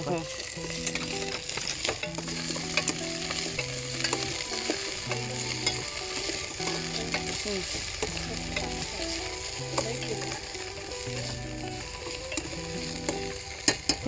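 Coriander stirred and fried in a pan, giving a steady sizzle broken by scraping stirring strokes, with soft music running underneath.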